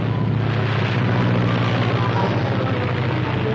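A propeller airplane drones steadily in flight, a loud continuous engine hum with a low throbbing tone, in an old Navy serial.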